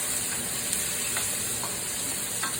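Onions fry in a pan with a steady, close sizzle and hiss, with a few faint stirring scrapes rising over the constant crackle.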